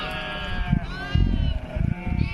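A flock of sheep bleats in quick overlapping calls, several animals near and loud over a steady outdoor background, with brief thumps between calls.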